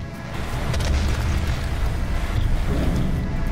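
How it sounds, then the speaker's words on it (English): An explosive gunshot in the DOOM video game: a sustained loud, low booming roar that fills the whole moment without a break. "Man, I love the new explosive shot on this gun."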